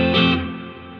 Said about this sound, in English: Okay, so it's a bigger plate reverb.